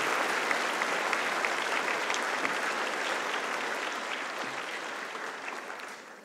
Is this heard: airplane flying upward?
no